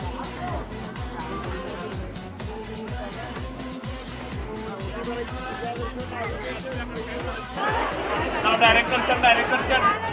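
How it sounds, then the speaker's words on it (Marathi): Steady crowd babble fills the packed Tulja Bhavani temple, many overlapping voices holding at a constant level, growing a little louder and brighter toward the end. "मंदिराच्या आतमध्ये भरपूर गर्दी आहे।"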